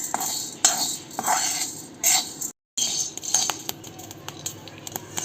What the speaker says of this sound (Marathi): आता आपण यात गहू भाजून घेऊया गहू पण छान आपल्याला पूर्ण भाजून घ्यायचे आहेत